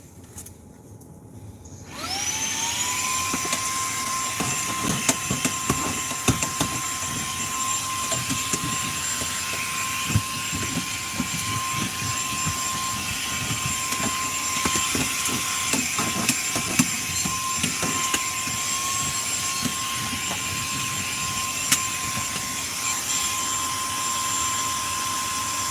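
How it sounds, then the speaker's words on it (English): A vacuum cleaner starts up after a moment of quiet and roars steadily at close range with a high whine, vacuuming up granola, running continuously without any talking. "You're gonna hear a loud vacuum for a second"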